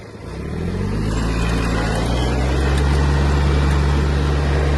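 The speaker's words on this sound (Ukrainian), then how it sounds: "І вимикаємо понижену передачу, щоб перевірити максимальну швидкість трактора." Kubota A-195 Japanese mini tractor taking off in high range toward top speed, its small engine droning steadily and loud with a low, even hum that holds constant throughout.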